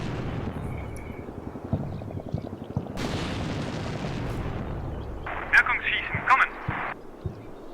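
Powerful artillery shells landing and exploding in a war game, with repeated heavy booms and crackling blasts amid radio chatter and voices talking.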